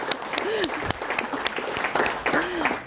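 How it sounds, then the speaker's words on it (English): An audience at a city annual update event bursts into steady applause, dense clapping filling the room at close range, with a voice speaking briefly over it. "That's worth clapping for."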